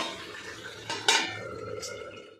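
Metal lid set back onto a cooking pot of simmering fish curry, a couple of sharp clanks close by, with a faint bubbling hiss underneath.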